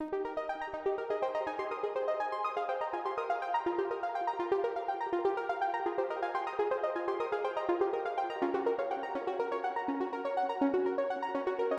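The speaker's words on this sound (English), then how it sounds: "I did another arpeggio, and I'm using this joint arp preset" A synthesizer arpeggio ripples steadily through lush, jazzy chords in rapid, even notes, bright and continuous with no voices.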